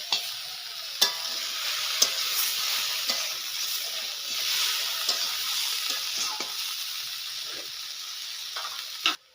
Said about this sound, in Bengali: এখন মশলাটা দেওয়া লাগবে, মশলাটা দিয়ে একটু ভাজি নিয়ে আসি।